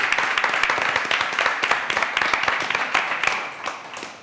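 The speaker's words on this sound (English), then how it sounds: "Big round of applause, please, for Regina." A crowd applauding steadily, dense overlapping claps throughout, tapering slightly toward the end.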